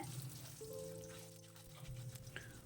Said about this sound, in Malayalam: ഇനി ഒരു 5-6 ചുവന്നുള്ളിയാണ് ചേർക്കുന്നത്.